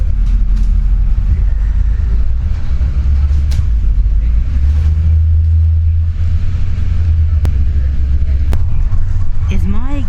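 A car rolls along on a ride-service trip, its low steady road rumble filling the cabin throughout, with a few faint clicks and a voice heard briefly near the end.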